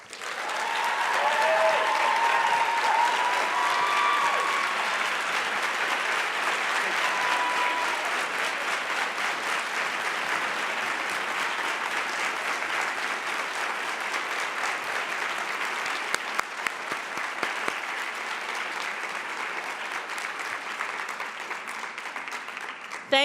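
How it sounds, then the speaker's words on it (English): Ceremony audience gives a long, sustained round of applause at a closing ceremony; thick, steady clapping from many hands fills the space for over twenty seconds with a few sharper claps standing out near the end. "Let's give another round of applause for her, please."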